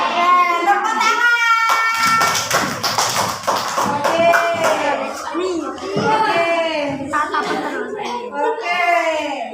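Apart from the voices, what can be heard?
children clapping hands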